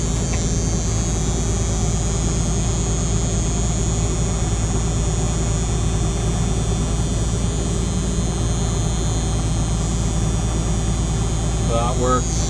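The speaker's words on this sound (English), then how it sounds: "This is your unloading auger." The unloading auger of a combine harvester runs under a steady, loud machine hum and engine drone. It stays even throughout, with a short squeal near the end and no clear speech.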